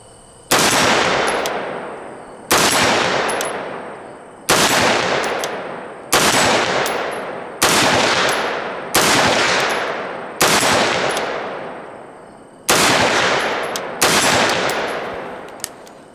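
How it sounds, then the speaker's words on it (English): A BCM Jack carbine AR-15 rifle fires at a steel target 50 yards out: nine loud, sharp single shots at a slow, fairly even pace, each with a long decaying echo. "See if I can work this"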